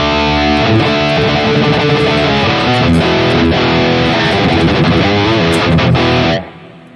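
Heavily distorted high-gain electric guitar chords through a Harley Benton DNAfx Git Pro ring out thick and loud, washed in reverb, then cut off abruptly with a fading tail.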